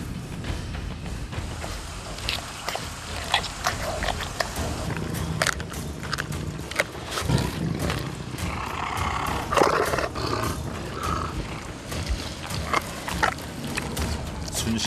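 A Siberian tiger in a zoo enclosure tears into a whole raw chicken, loud crunching and wet bites up close with repeated short growls and roars over about fifteen seconds.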